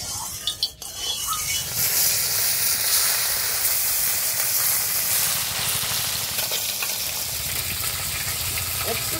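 Amudi fish coated in salt and turmeric fry in hot mustard oil, a loud, continuous close-up sizzle and hiss that stays steady after a few brief knocks at the start.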